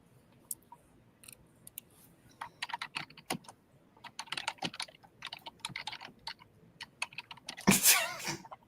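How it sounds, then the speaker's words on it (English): Heavy, fast typing on a computer keyboard, a dense run of sharp clicks and clacks that builds toward a louder burst near the end, close and fairly quiet with no talk over it. "That's some heavy typing."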